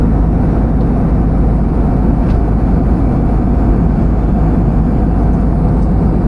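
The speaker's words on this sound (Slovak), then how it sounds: "lietadlo." Steady, loud airliner cabin roar during a flight from Vienna to Thailand, a dense unbroken drone that fills the whole clip with no talk over it.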